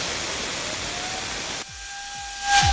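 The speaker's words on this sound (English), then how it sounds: "I'm gonna spin the fan with the air compressor right now" An air compressor nozzle blowing onto a PC fan from an old computer: a loud, steady hiss of rushing air that cuts off sharply partway through, followed by a few soft clicks and a brief whistling burst at the end.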